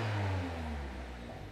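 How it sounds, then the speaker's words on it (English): A Volkswagen MK7 Jetta engine, fitted with a boost gauge, gives a brief rev whose low engine note winds down into a steady idle drone, close and alone. "We'll give it a couple revs."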